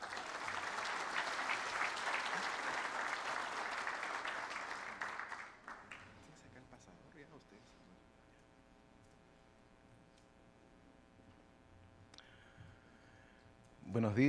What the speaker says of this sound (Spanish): Un fuerte aplauso, por favor, para Guido.